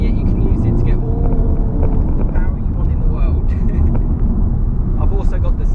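VW Golf R with its 2-litre engine and sound imposer switched off, a loud steady drone of engine and road noise inside the moving car, with someone talking over it throughout.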